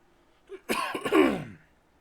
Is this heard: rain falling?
no